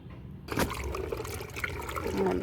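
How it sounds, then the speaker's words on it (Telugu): After a brief quiet moment, water splashes and sloshes close by as freshly harvested turmeric roots are rubbed and swirled by hand in a basin. "ఒకసారి క్లియర్గా వాటర్లో కడిగి మళ్ళీ చూపిస్తాను"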